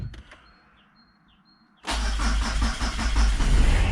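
A Suzuki Baleno car engine starts: quiet faint clicks, then the engine catches abruptly and runs loudly at a steady idle for the last two seconds.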